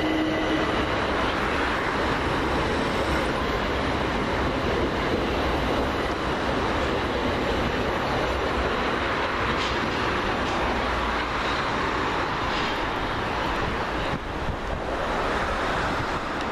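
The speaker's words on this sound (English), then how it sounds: "now heading off with the delayed 1410 Southern Railway service from London Victoria to London Bridge" A Southern Railway Class 377 electric train pulls away from West Norwood station, a loud, continuous broadband roar and rush of motion filling the clip with no speech.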